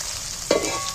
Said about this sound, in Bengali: এবার আমি মাংসগুলো তেলের মধ্যে তুলে দিচ্ছি। মাংস কিমাটা তুলে দিই।